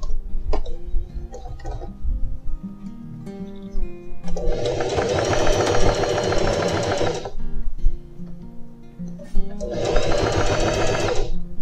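A sewing machine stitching the side seam of jeans runs in two loud bursts of rapid whirring needle strokes, separated by quieter handling clicks and pauses, close up.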